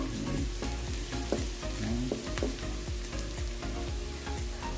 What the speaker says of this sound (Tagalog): Ating luto-lutoin ng konti ang ating sibuyas bawang